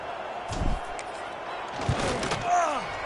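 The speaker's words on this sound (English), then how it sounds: "he knocks the extra point through the uprights" Extra point kick in the video game College Football 26, a single dull thump near the start, then a crowd murmur swelling under a play-by-play announcer's commentary.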